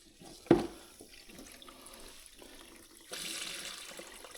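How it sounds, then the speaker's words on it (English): Cold water running from household taps with every tap in the house opened; a sharp splash at the start, then a faint trickle that swells into a steady, louder gush of flowing water near the end, with no talking. "So all the cold water in the house is on."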